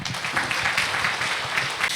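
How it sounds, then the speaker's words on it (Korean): An audience applauds at an international conference on AI in education as a National Assembly member is introduced for a keynote, a dense, steady wash of clapping that holds for about two seconds without pause. "여러분 큰 박수 부탁드립니다"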